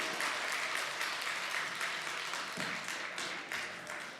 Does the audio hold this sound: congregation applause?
yes